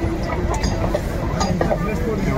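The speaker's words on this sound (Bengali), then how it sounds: "লোকাল ট্রেন এক্সপ্রেস ট্রেনকে টপকে বেরিয়ে যাচ্ছে।" A local train passing an express train, a steady broadband rail rumble and rattle that holds loud and continuous throughout, with crowd voices murmuring underneath.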